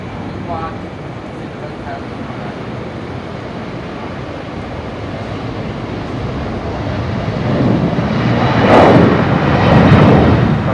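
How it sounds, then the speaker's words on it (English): At night at Brisbane Airport, an Airbus A330 bound for Los Angeles departs with a deep, rumbling engine roar that swells louder toward the end as the jet passes, while a voice talks over it. "The A330 heading all the way to LAX tonight's longest A330 flight in"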